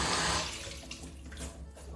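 Running tap water pours over peppers being washed in a kitchen sink before cutting for a stir fry, a steady close splashing that is strongest at first and then eases to a softer trickle.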